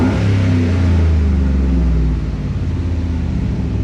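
A car exhaust fitted with an electric cutout rumbles loudly with the cutout open, a deep steady idle roar that dips slightly partway through.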